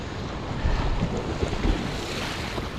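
Continuous rough rushing of churning water and waves where the sea pushes back a river's outflow, loud and close, with heavy wind buffeting the microphone throughout.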